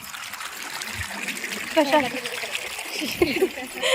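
Rainwater runs and splashes steadily around a house and plot during a storm, a continuous trickling flow with small splatters close by while people talk over it.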